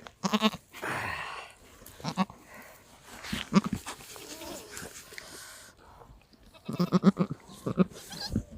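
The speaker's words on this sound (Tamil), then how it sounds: "குட்டி பிறந்தோடனே கத்தணும்" A newborn goat kid bleats repeatedly in uneven bursts, fairly close, with quieter stretches between calls and faint farmyard background.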